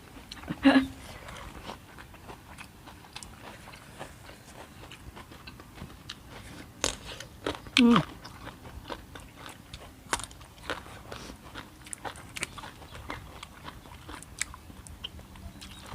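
Someone eating spicy Thai-Lao shrimp koi with fresh vegetables and pickled garlic, close soft chewing and occasional crunchy bites scattered through, with voices talking between mouthfuls.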